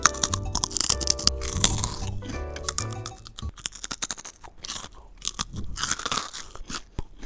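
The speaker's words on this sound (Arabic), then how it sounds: "هيدي أصوات فرفتة." Potato chips crunched up close in a dense run of crisp, crackling bites and chewing, loud and steady with no talk.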